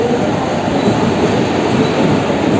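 Train passing through Churchgate station, a loud, steady rumble of wheels on rails with a continuous roar close by, without breaks.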